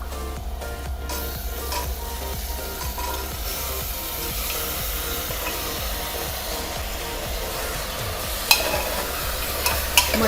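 Mutton pieces stir-fried in hot oil with onion and turmeric for Kolhapuri mutton rassa, a steady close sizzle with continuous scraping and stirring throughout, a couple of sharper clinks near the end, no talking.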